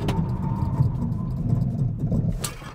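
A Volvo EX40 under hard braking during a brake test, heard as a steady low rumble of road and tyre noise inside the cabin, with a brief sharp transient near the end and no talking.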